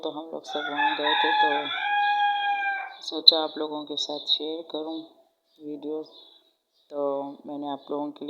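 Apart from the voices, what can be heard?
rooster crowing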